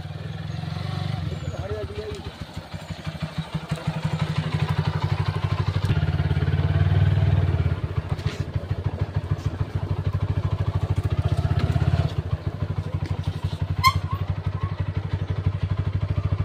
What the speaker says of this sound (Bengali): এই যে আমরা এই বাইকে উঠে যাবো